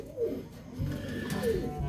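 A tiger grizzle racing pigeon coos softly up close, two low throaty coo phrases rolling out about a second apart over quiet room background.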